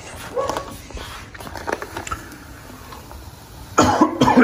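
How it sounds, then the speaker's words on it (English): A person coughs several times in short bursts, with a louder, harsher cough near the end, while working on a transparent precut American flag decal installed on a 2014-or-newer Toyota Tacoma window. "That's why I'm coughing"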